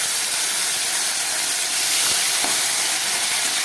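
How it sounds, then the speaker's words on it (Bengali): Half an inch of ground ginger paste hitting hot oil in a pan for mixed lentil dal, a loud steady sizzling hiss that holds throughout with a couple of faint pops. "এখানে আমি 1/2 ইঞ্চি মতো আদা বেটে নিয়েছি, সেই আদাটাই গরম তেলের মধ্যে দিয়ে দিলাম।"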